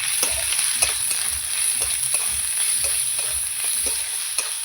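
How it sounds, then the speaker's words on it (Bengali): A spoon stirs and mixes a green coconut curry with turmeric, salt and sugar in a hot pan, making a continuous sizzle broken by repeated scraping strokes in an irregular rhythm, close and fairly loud. "ভালো করে এবার আমি মিশিয়ে নেব"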